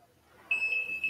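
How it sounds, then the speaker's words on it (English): A 33 kV high voltage detector under test starts a sustained high-pitched electronic tone that rises abruptly out of low background noise and holds steady to the end. "You heard it beep."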